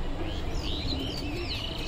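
A flock of domestic pigeons kept by a fancier, with soft chirps and twittering calls rising and falling near and far over a steady outdoor background hum.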